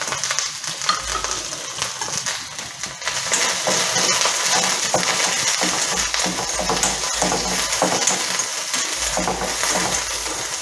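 Sliced onions fry in half a teaspoon of oil in a pan, making a steady close sizzle with occasional stirring scrapes and light knocks, for a stuffed potato bajji.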